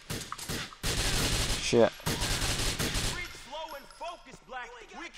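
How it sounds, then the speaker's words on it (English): Rapid bursts of SMG gunfire in Grand Theft Auto IV ring out loud and close across the first few seconds, with repeated volleys, then fade into scattered shouting voices; a man swears briefly over the shooting. "I do like this SMG a lot more."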